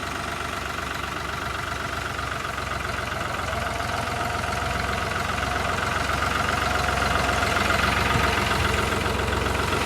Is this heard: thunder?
no